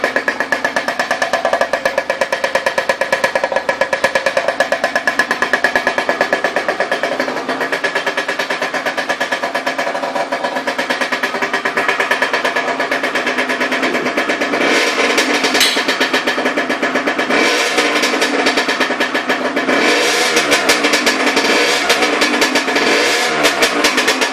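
A 2009 Aprilia RS 50 motorcycle's small engine fires up and revs repeatedly, the loud buzzing two-stroke note rising and falling in sharp bursts close by throughout, with no talking.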